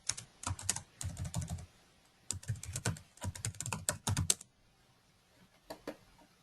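Bursts of typing on a computer keyboard, quick close keystrokes clustered in several runs with short pauses between, ending in a few isolated taps, no talking.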